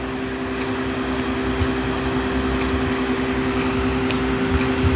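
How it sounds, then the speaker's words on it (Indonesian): A small USB cooling fan powered from a set-top box running an OpenWrt setup, turning below full speed: a steady, close mechanical whir with a constant tonal hum, no talk. "Saya colokan untuk kipas ke situ, tapi kecepatannya tidak maksimal teman-teman."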